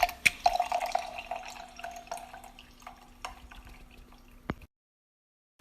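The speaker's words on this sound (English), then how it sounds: "and then it pours some wine" Wine trickling from a needle-through-cork dispenser into a glass, with a few soft dripping and splashing sounds at the start that thin out to a quiet fading trickle before stopping, and no talking.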